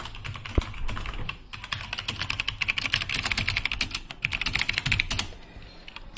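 Steady, rapid typing on a Philips RGB mechanical gaming keyboard, with crisp, clicky keystrokes in quick bursts and short pauses, close to the mic and with no talk.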